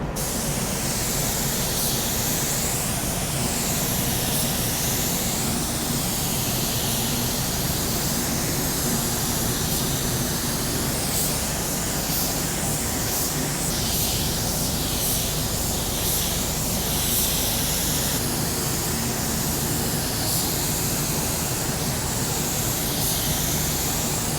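A paint spray gun lays a second coat of solid colour onto a car roof, a loud, continuous close hiss of atomised paint running throughout with faint rhythmic pulsing as passes overlap.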